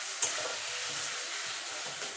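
Taro greens cooking with a hilsa fish head in a pan give a soft, steady sizzle with light stirring scrapes and a small clink at the start, fairly quiet and with no speech.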